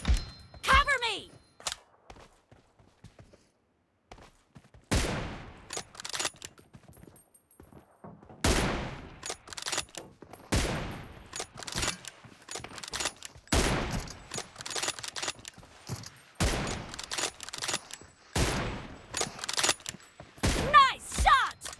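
Sharp gunshots from PUBG Mobile, including M24 sniper rifle fire, crack out in scattered single reports and short bursts over about twenty seconds, some loud and close, others fainter, with voices talking between them.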